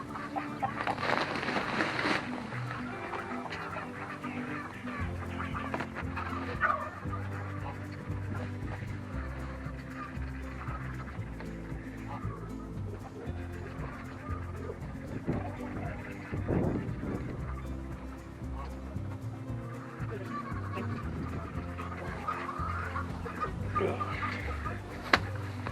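Turkeys cluck and gobble in a pen, a busy run of close, overlapping fowl calls over steady outdoor background noise, with no clear talk.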